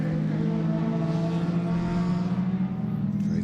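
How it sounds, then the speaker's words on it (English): A Peugeot 206 rallycross car with a K24 engine blasts past at Mondello Park, a loud, sustained high-revving engine drone that holds strong for several seconds before easing slightly as it goes by. "Great sound effects as Shane Mulligan goes blasting by"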